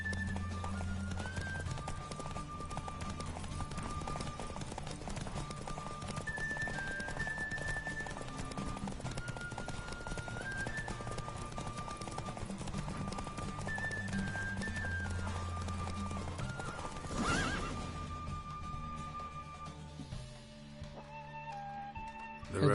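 Roach, the horse in a Witcher 3 race, gallops with steady rhythmic clip-clop hoofbeats under game music, ending with a brief surge and quieter tail.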